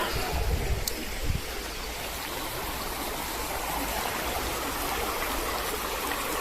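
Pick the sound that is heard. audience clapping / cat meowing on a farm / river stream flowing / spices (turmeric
river stream flowing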